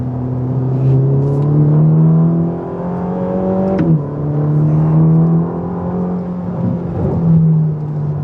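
Ferrari Roma with a 620-horsepower engine accelerating hard from inside the cabin, a loud rising roar through the gears with a quick upshift around midway, then climbing again, no talking over it.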